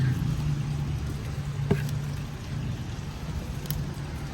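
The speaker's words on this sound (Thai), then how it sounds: "ฝนตกน้ำจอกๆอยู่" Continuous rain patters down with occasional distinct drips of water, steady and fairly close, with a low hum underneath.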